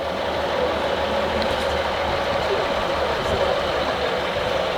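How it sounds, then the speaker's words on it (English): Steady, loud rumbling of a passenger train arriving at Corrour from Glasgow, engine and wheel noise filling the whole stretch without pause. "It's the first train, non-sleeper train of the day, up from Glasgow."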